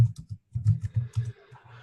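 Rapid, irregular keystrokes on a computer keyboard, a close burst of hard clicks in uneven clusters with brief pauses, heard alone without talk.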